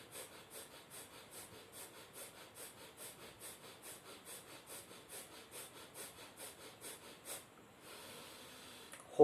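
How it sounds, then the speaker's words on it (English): Forceful Bhastrika pranayama breathing through the right nostril with the left closed: rapid, even, rhythmic in-and-out nasal blasts, close and steady for about twenty cycles, then a pause with a soft long exhale. "You are starting from the right side, left is closed, 21 times breathe in,"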